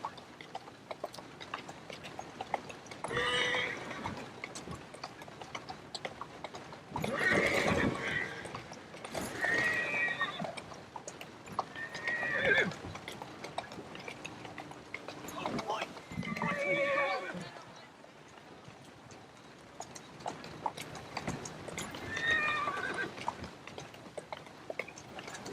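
Horse in the Assassin's Creed Syndicate video game neighing several times in loud whinnying bursts, with clip-clopping hooves between them, while a person talks over parts of it.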